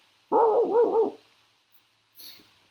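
A person imitates a dog, letting out a quick run of three or four voiced barks, then a brief softer sound after a pause.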